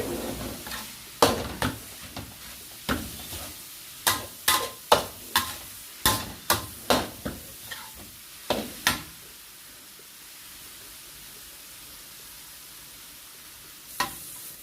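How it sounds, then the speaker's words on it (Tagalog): Shredded coconut is mixed into a vegetable salad with spices, giving a series of sharp, close scraping and tapping strokes of a utensil against a bowl in an irregular rhythm, then a quiet pause and one last tap. "Now I'm going to mix in the shredded coconut. Mix properly."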